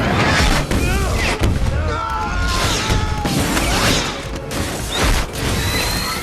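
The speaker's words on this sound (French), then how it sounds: "Une rangée de roquettes jaillit du flanc de la voiture en direction des deux hommes." Rockets burst in rapid succession from the side of a car in a film action scene, with booming blasts, crashes and whooshing streaks, loud and dense throughout.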